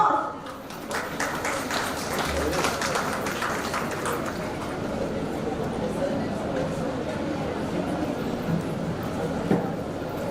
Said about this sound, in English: Give a warm round of applause.